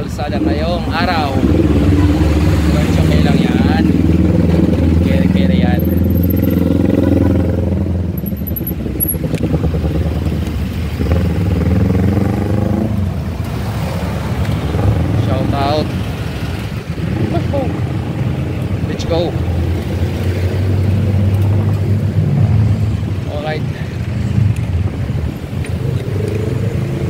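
Heavy road traffic on the Kalayaan flyover, with motorcycle and car engines droning and revving close by in a continuous rumble, while someone talks over it almost throughout.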